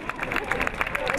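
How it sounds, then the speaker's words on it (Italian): Audience applause for the Centro Insieme students at a fashion show evening, a steady spread of clapping with crowd murmur throughout, fairly close and even in level. "facciamo anche a loro questo applauso"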